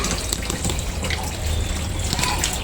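Water pours steadily from a tap into a washing machine drum, a continuous rushing and splashing flow heard up close with no talking.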